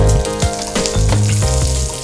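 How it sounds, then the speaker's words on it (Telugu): Onions, garlic, cumin and curry leaves fry in a pan with a loud, steady sizzle and crackle close by, continuous throughout with no talking. "కొంచెం జీలకర్ర వేసుకుని, కొంచెం కరివేపాకు వేసుకుని, కట్ చేసిన ఉల్లిపాయలు, వెల్లుల్లిపాయలని వేసుకుని కొంచెంసేపు ఫ్రై చేయాలి"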